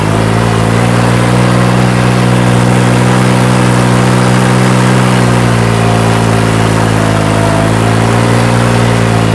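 A tractor tilling a field runs with a loud, close, steady engine drone and only slight shifts in pitch throughout.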